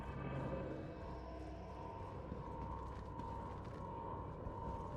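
Whirring machinery inside the Hull C ship in Star Citizen, a faint steady mechanical hum with a soft ratcheting, creaking texture running continuously throughout.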